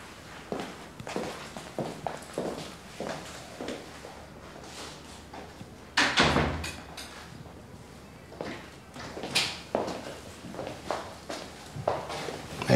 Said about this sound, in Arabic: اقفل الباب وتعالي